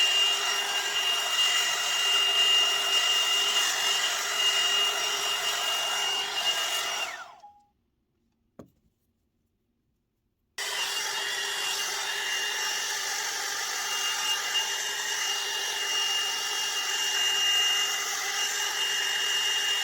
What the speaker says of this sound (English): If you lift the hair up as you're blow drying, that can help to create more volume in those roots as well.